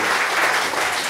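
Short burst of steady audience applause at a science-and-business event on artificial intelligence, dense and continuous clapping filling the room with no talk over it.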